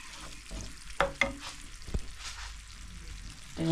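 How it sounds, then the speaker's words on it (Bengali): A spoon stirs a condensed milk mixture in a bowl, giving soft scraping and a few sharper clinks against the bowl, close and alone. "এবার ভালোভাবে মিক্স করে নেব এখন আমি সব এগুলোকে মিক্স করে নিই"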